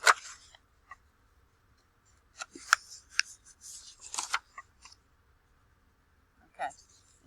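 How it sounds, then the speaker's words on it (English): Paper being folded lengthwise and pressed into a crease at close range, with sharp, sparse crinkles and scrapes separated by quiet gaps and a final rustle near the end. "And then you're going to fold it long ways the same way."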